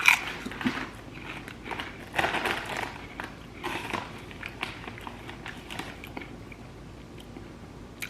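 Crunchy bites and chewing of Lay's deep dish pizza flavored potato chips, several close crisp crunches early on that fade into quieter, softer chewing, with no talking.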